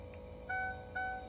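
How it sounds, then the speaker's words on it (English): Electric fuel pump priming on a truck fitted with new lithium batteries, heard as two short, faint tonal whines about half a second apart over a low background hum. "Fuel pump primer's going."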